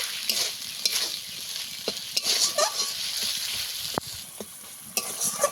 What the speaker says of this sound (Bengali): আর সামান্য অল্প একটু লবণ দিয়ে ভালো করে কষিয়ে নেব